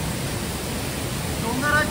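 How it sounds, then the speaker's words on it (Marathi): Thoseghar waterfall in Satara plunging with great force, heard from a cave beneath it as a dense, unbroken roar filling the whole moment, with a faint voice surfacing briefly near the end. "प्रचंड वेगाने धबधबा कोसळतो आणि त्या धबधब्याच्या खाली ही गुहा आहे"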